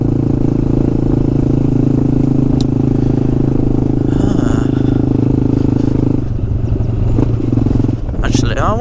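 A Honda Grom motorcycle idles nearby with a steady, clattery mid-range engine hum that shifts near the end, while someone talks over it.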